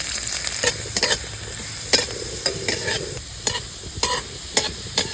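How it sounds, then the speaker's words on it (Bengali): Green chilies and garlic tempering in hot oil in a kadai give a steady close sizzle, punctuated by sharp stirring and scraping clicks. No voices. "এই দুটো লঙ্কা পুরন দিয়ে দিচ্ছি এই রসুনটা ফোড়ন দিয়ে দিচ্ছি"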